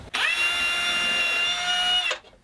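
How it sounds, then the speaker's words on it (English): A power drill pre-drills nail holes in a wooden birdhouse, giving a single steady high whine of about two seconds, close and clear with no talk. "I'm gonna pre-drill the nail holes."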